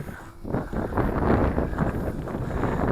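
Steady wind buffets an outdoor microphone during a KK13 Dragonfly brushless GPS drone flight with a 2-axis gimbal, a loud continuous low roar that surges and holds throughout.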